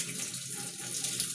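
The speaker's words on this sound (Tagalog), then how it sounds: "Hugasan natin ang mga gulay bago natin hiwain." Tap water runs steadily into a sink while vegetables are rinsed, a close, continuous hiss and splash with no voices.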